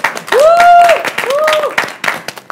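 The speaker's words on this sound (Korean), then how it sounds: "박수!" Applause at an NCT workshop, with bursts of claps under loud, rising whoops and cheering voices from the group, all packed into a couple of seconds.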